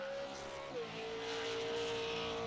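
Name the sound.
race car completing a lap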